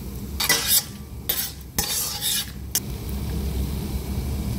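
Urad dal, cumin, mustard seeds and cashews hit hot oil for tempering, giving a few loud bursts of crackling sizzle with spoon stirring and utensil clinks, then a steady low frying hiss.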